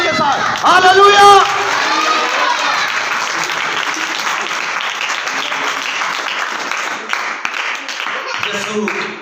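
Loud congregational applause at an Urdu-language church service, a dense burst of many hands clapping after a shouted cry opens the stretch, then settling into steady sustained clapping with some crowd voices mixed in.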